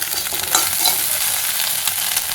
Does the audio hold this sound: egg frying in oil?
yes